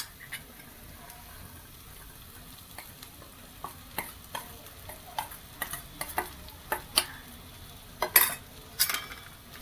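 Crushed green peas tossed and stirred in hot oil for matar kachori filling, a soft ongoing sizzle broken by scattered sharp clicks and scrapes of a spoon against the pan, growing busier toward the end.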